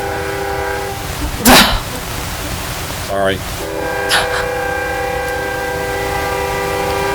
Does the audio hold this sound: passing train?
yes